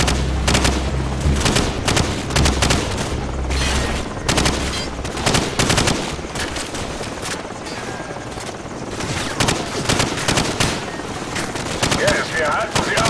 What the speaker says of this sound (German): Feuer erwidert.